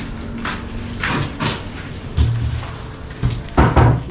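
Solid wooden doors for a main and back entrance are handled and shifted nearby, giving a series of knocks, bumps and scraping thuds of varying loudness.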